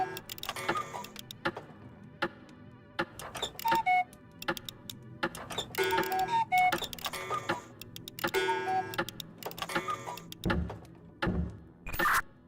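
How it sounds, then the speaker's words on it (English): A clock ticking in the co-op puzzle game We Were Here Together, with repeated sharp ticks and metallic clicks, some ringing tones mixed in, and a few heavier thuds near the end. "what does the ticking sound like?"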